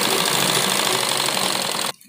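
A domestic sewing machine runs a continuous double line of stitching on a school uniform salwar, a steady dense mechanical rattle that holds for about two seconds, then cuts off abruptly into near silence.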